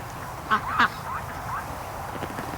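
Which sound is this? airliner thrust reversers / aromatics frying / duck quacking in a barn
duck quacking in a barn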